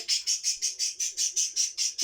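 A pet bird chirps indoors in a rapid, steady series of about a dozen bright, evenly spaced calls, close and clear with no talking.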